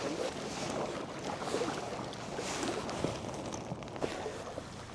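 Kayak paddling on open water on a sunny day, with soft, steady watery swishes and small splashes under continuous wind noise buffeting the microphone, no talking.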